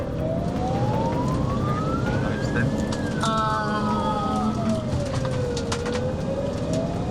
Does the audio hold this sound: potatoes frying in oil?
no